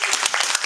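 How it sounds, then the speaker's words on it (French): Students in a classroom applauding a classmate, a brief, close burst of loud clapping with a few distinct, uneven hand claps standing out. "Essayez d'applaudir l'ami."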